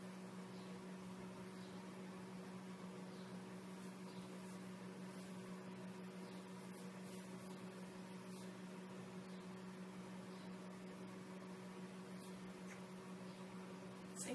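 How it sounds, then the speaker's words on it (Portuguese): A microwave oven runs steadily while melting chocolate in a home kitchen, giving a continuous low electrical hum with a fan-like whir at an even level throughout, with no talking over it. "volta lá pro micro-ondas mais 30 segundos"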